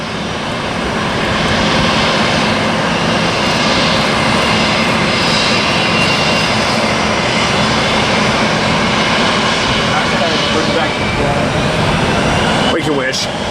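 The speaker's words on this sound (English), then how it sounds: "here's American A321." An American Airlines A321 jet roars loud and steady through its takeoff run near an airfield, a broad continuous engine rumble that holds for the whole stretch, with a brief clatter near the end.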